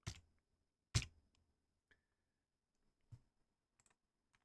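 Typing on a computer keyboard: a few sharp, close key presses spaced irregularly, with lighter clicks in between and quiet gaps.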